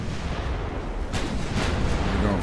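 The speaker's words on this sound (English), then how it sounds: "We're going to full broadsides with these battleships." Battleship broadside artillery fire rumbles from 1890s warships in the naval strategy game Ultimate Admiral: Dreadnoughts, a dense, heavy low roar with a couple of sharper booming blasts in the second half.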